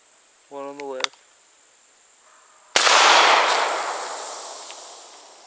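A .410 bore gun fires a game load into a 2-liter plastic bottle: one sharp, loud blast with a long, fading tail, preceded by a brief voice.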